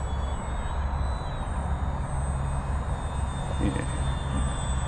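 Xfly Tasman 1.5m all-purpose RC plane flying slowly with landing flaps deployed, a steady, moderately loud electric motor and propeller whine holding throughout with no break.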